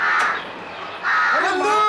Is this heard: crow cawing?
yes